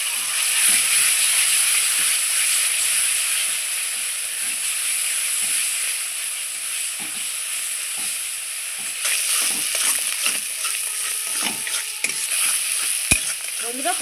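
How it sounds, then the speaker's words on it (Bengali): Ground pointed gourd paste frying in a pan with garlic and nigella seeds, a loud, continuous sizzle and hiss with bursts of spatula stirring and scraping toward the end, no voices. "আমি এখন বেটে রাখা পটলটা দিয়ে দেবো।"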